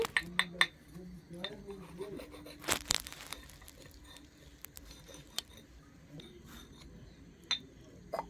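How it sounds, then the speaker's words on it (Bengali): Plastic toy kitchen bowls and utensils clink and clatter in scattered light taps, with a louder cluster of knocks midway, close by in a quiet room with faint voices now and then. "এটা হলো খেলনা বাটি"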